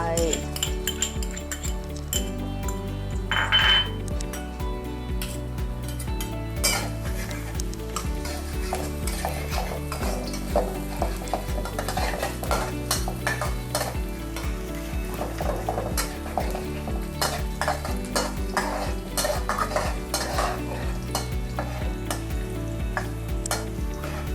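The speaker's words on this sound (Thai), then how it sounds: "น้ำมันร้อนแล้วใส่กระเทียมลงไป" Garlic stir-fried in hot oil for a Thai sea bass and celery dish, with a steady sizzle and repeated scraping of a utensil against the pan, continuous and close with no talking.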